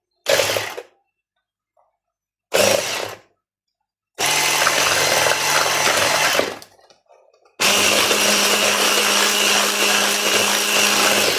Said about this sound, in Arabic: هنضرب دول مع بعض الاول كويس بالمضرب الكهربائي